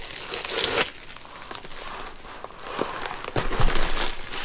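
A packet holding a set of two silicone baking mats, 11 5/8 by 16 1/2 inches, is pulled open with close, crinkly plastic rustling and a few sharper tearing bursts over a few seconds.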